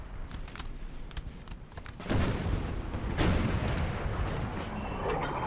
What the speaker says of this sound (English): I don't think this artillery is doing a whole lot of damage to the French